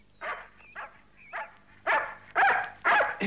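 A dog barks repeatedly, starting with a few softer yips and rising to three loud, close barks spaced about half a second apart.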